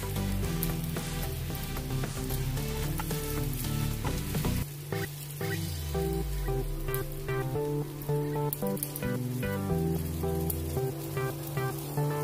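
Batter spreads onto a hot pan, giving a steady loud sizzle with occasional stirring or scraping sounds, uninterrupted by any voice.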